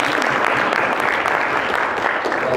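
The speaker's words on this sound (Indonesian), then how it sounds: "tepuk tangan terlebih dahulu" Steady applause from a crowd at a student board election debate, dense continuous clapping that holds at an even level throughout.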